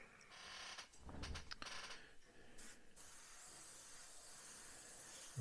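Spray paint misted in light dusting passes onto a Revell 1/32 He111 model kit, a steady close hiss with a few short bursts and pauses.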